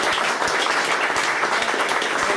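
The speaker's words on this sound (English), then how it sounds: "So again, a round of applause, please." An audience applauds at an indoor event in Ottawa, a dense, even wash of clapping hands that carries steadily for a couple of seconds with no voices over it.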